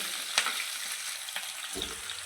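Mustard seeds, cumin and green chillies crackle in hot oil for a poha tempering, a steady broadband sizzle with a few sharp pops and a low stir-like thump near the end, fairly close, with no talking.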